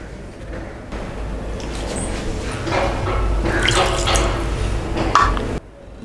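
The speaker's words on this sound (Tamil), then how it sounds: "ஒரு 1/2 டம்ளர் தண்ணி ஆட் பண்ணிவிட்டு" Water is poured into a cooking pot of prawn masala curry, a steady close splashing and trickling pour lasting several seconds with no talk, ending abruptly.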